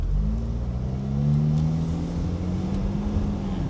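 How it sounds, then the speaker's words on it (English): A car on a Florida driving-test course accelerates steadily to about 20 mph, its engine note rising and holding close and loud before easing off for a sudden stop. "Speed up to 20, sudden stop."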